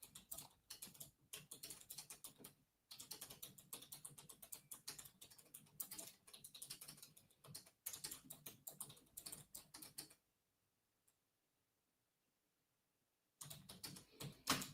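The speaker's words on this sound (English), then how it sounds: "y'all hear me type again" Close typing on a computer keyboard, a steady rapid patter of key clicks in bursts for about ten seconds, then a few seconds of silence before a short final burst, with no talking.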